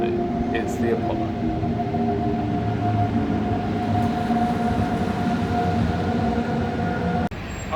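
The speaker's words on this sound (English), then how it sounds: "Another day and we're back on the subway." A New York subway train runs northbound toward Harlem with a steady loud rumble and a sustained tonal whine from the car. It ends with a brief drop and a clunk near the finish, and no one speaks.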